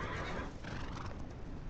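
A horse in The Legend of Khiimori whinnies amid hoof clip-clops, a brief, dense burst of neighing and hoof noise that stays loud and close for under two seconds.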